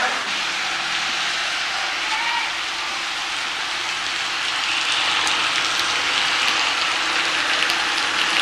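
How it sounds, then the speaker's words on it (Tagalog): Heavy rain at Kamay ni Hesus in Lucban, Quezon, a dense, steady hiss that fills the whole clip at an even loudness, with no voices. "Sobrang lakas talaga ng ulan."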